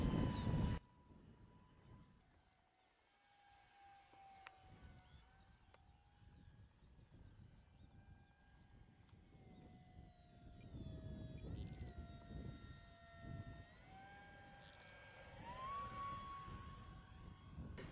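A 3D-printed JRM-01 RC jet flying rolls and turns overhead, heard as a faint, distant electric whine that climbs and dips in pitch continuously as it maneuvers.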